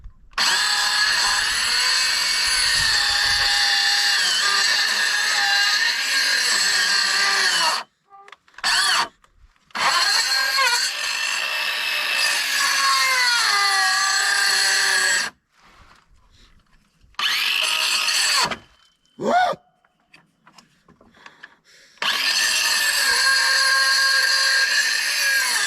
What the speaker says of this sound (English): I'm getting sick of this saw too.